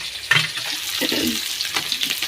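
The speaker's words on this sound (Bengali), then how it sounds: "এই যে এখানে মাছ ভাজছি, এই যে লাল লাল করে ভেজে দিচ্ছি" Pangas fish pieces with heads and fat frying in hot oil in a wok, a soft steady sizzle with occasional spatters and clinks of stirring, fairly close.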